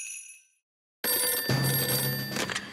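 A cartoon telephone rings in a bright, electronic trill that cuts off, then sounds again after a short silence, close and clear with no talking.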